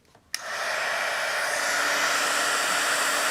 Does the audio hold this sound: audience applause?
no